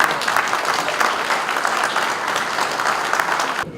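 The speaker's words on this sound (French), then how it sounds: "Je pense que vos applaudissements sont mérités" Sustained audience applause at a general assembly of a departmental committee in St Gervasy, dense and steady for several seconds before cutting off abruptly near the end.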